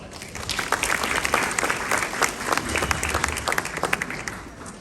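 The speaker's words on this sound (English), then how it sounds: "Let's give them a round of applause." A crowd at an India Canada Culture & Heritage Association gathering in Winnipeg applauds the organizers and board. Many hands clap in a thick, lively burst that swells and dips slightly, close and fairly loud, with no voices.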